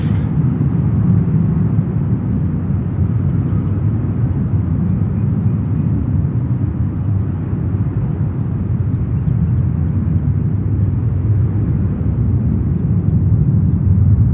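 An El Al Boeing 777-200 jet at JFK airport roars loudly and steadily, a deep continuous engine rumble with broad jet noise sustained throughout.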